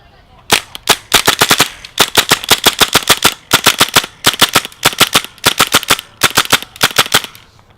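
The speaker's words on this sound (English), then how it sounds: "now we're just gonna finish it off on semi, so I can kind of pull the trigger as fast as possible" Tippmann M4 Carbine paintball marker fired rapidly on semi-auto, loud close sharp pops in quick bursts of about five to nine shots separated by short pauses.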